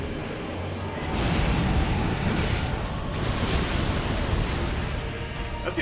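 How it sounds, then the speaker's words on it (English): A big in-game explosion in Elden Ring swells into a loud, sustained roar of broadband rumble that holds for several seconds without a clear break. "Big explosion."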